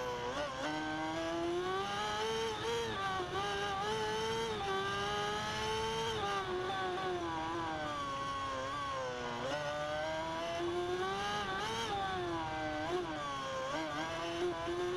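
An MV Agusta F4 1000 Tamburini races in the RIDE 2 video game, its high-pitched engine whining and revving up and down through gear changes and corners, loud and continuous.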